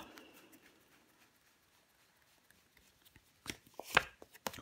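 Tarot cards laid down on a table land as a few soft, close slaps and brushing shuffles in a short cluster after a stretch of near silence.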